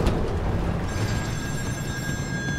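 A telephone rings in the horror video game Still Wakes the Deep, a steady electronic trill holding over a low rumbling ambient drone, fairly close and clear with no talking.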